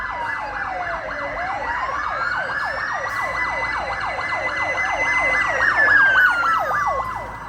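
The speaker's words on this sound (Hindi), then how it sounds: "ये अभी फायर ब्रिगेड की गाड़ियाँ गुजरेगी यहाँ से" Several fire engine sirens wail at once, rapid yelping tones overlapping with slower rising and falling wails as the vehicles pass nearby, growing louder then fading.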